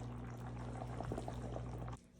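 Creole sausage beans simmering and bubbling in a pot as they reduce to a thick, creamy consistency, a steady close bubbling hiss that cuts off sharply near the end.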